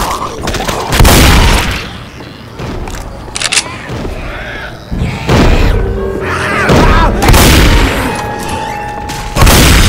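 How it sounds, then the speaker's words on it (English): A shotgun firing in a video game, with several loud booming blasts spread irregularly through the stretch amid other game noise and clatter, and a voice talking faintly in places. "Going with the shotgun."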